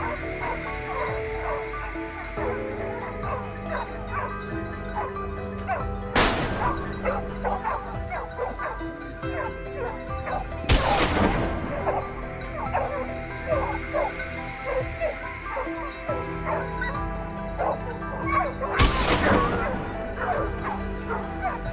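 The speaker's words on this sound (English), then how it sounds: "the hunting dogs" Hunting dogs bark steadily in a pack during a wild boar chase on a mountainside, the yapping and baying overlapping continuously with a few whimpers, and three sharp crashes break through the noise.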